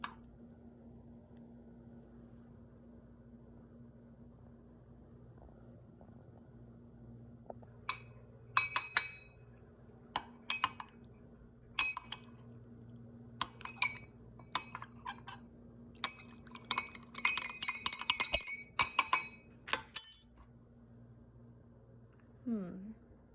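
A spoon stirs a glass of water, giving a series of sharp, close clinks that come in irregular bursts over a quiet low hum, then stop.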